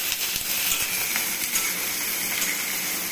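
Thinly sliced onion and garlic sizzle steadily in hot oil, with a soft continuous hiss, a few light clinks and faint stirring scrapes, close and moderately loud.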